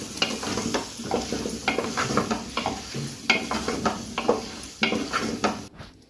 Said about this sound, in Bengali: এবারে গুঁড়িয়ে আলুগুলো এর মধ্যে দিয়ে দেবো, দিয়ে ভালো করে কষিয়ে নেব।